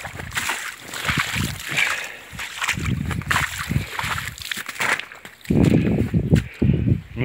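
Floodwater from melting snow runs and sloshes around a warehouse yard, splashing irregularly nearby with bursts of heavier churning toward the end and occasional footstep-like thuds.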